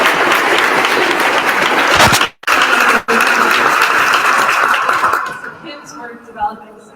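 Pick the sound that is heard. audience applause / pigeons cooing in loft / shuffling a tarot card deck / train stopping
audience applause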